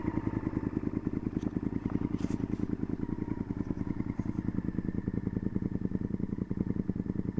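A 2002 Honda VTR 1000F Superhawk V-twin with a Devil exhaust idles close up, a loud, steady, lumpy rumble of rapid even pulses with slight mechanical clatter on top.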